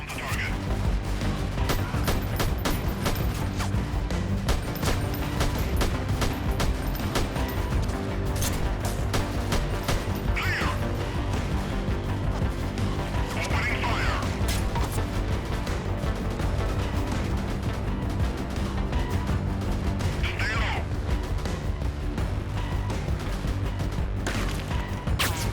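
Gunfire rings out in a Mount and Blade battle, repeated sharp shots scattered at irregular intervals over a continuous din of combat, while someone talks throughout.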